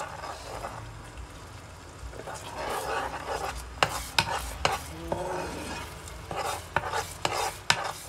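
Chili paste cooking in oil for homemade pili pili purée, stirred in a pan: a low, steady sizzle runs under repeated scraping and rubbing strokes that grow busier and more rhythmic in the second half.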